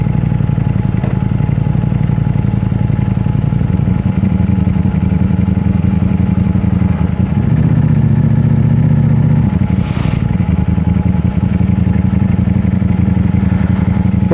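Motorcycles rumble at a bike night outside a British pub. A loud, continuous engine drone runs throughout, with shifting revs and a brief rise near the middle, and no voices.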